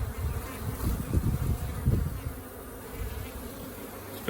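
A colony of honeybees droning around their hive, a close, full buzz that swells for a couple of seconds and then settles into a softer steady hum.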